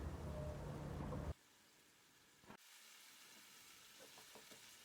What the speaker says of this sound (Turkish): bir adet doğranmış kuru soğan, ve zeytinyağı ekleyerek kavurma işlemine devam edelim.